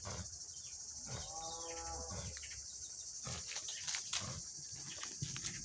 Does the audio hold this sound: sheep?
yes